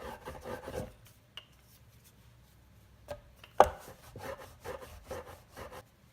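Homemade dumpling wrapper dough rolled out on a floured surface with a rolling pin, giving repeated rough rubbing strokes in short bursts with brief pauses and one sharp knock, close and moderately loud.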